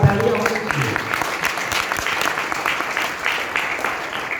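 A seated audience claps for a newly appointed chairman during a motivational talk, a loud burst easing into sustained, uneven clapping with faint murmurs underneath.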